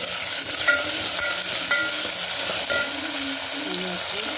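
Ginger-garlic paste sizzles in a tempering of cumin, mustard seeds and urad dal for idli sambar. A moderate, steady crackle is broken by a few soft stirring knocks.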